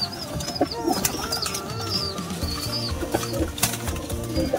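Racing pigeons arriving home from a training flight in Villasis, Pangasinan, with bursts of flapping wings and cooing over a busy background of other bird calls, steady and moderately close.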